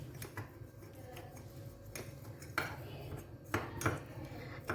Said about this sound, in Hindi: एक बारी इसको हम मिक्स कर लेंगे